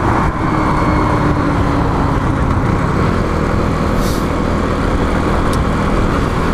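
Motorcycle engine running steadily and loudly as the rider works clutch and throttle through a gear change, a continuous close-up mechanical roar with slight dips in tone and no talking.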